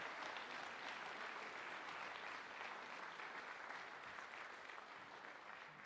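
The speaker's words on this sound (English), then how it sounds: "let's give them a nice round of applause." An audience at a school winter band concert clapping steadily for several seconds, a dense, even wash of applause heard at a distance.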